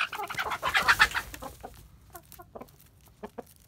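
A gamefowl rooster clucking close by, a burst of loud harsh clucks at first, then sparser, quieter clucks trailing off, with no talk over them.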